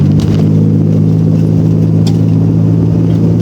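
A V6 Mitsubishi Shogun drives around roundabouts, its engine a loud, steady low hum and rumble from inside the cabin, with no talking.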